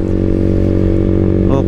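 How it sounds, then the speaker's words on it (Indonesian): A motorcycle engine fitted with a coil booster and an open looper exhaust idles loudly and close by in a steady, throbbing rumble, with a short blip of revs near the end. "sekarang kita coba tes nih motor nih"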